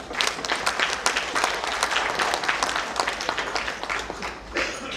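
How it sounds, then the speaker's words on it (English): An audience at a sports club centenary celebration applauds steadily, a dense wash of many hands clapping at even loudness for several seconds with no voices on top. "Let us give him a clap."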